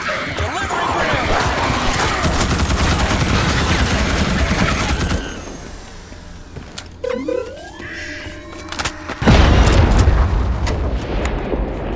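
Grenade explosions and gunfire in the Starship Troopers: Extermination video game, a dense loud barrage of blasts and shots, then a brief lull with sweeping electronic tones before another heavy burst.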